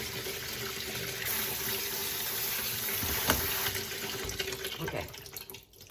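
Cool tap water runs steadily from a kitchen faucet over wheat berries being rinsed, a continuous close gushing stream that tapers off near the end.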